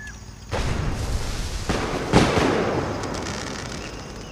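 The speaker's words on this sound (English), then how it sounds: "Let's get the fireworks going." Fireworks launching from a switch-triggered contraption in Fallout 4, a wave of whooshing bursts that swells at about half a second and peaks in a sharp crack before trailing into a steady hiss.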